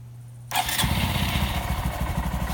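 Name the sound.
Honda Monkey motorcycle engine starting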